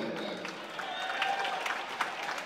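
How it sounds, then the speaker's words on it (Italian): Crowd applause at a rugby match between Rovigo and Piacenza, greeting the home captain named man of the match: steady, dense clapping throughout, moderately loud, with a faint undertone of crowd noise. "Gli applausi per il capitano Rosso Blu, man of the match"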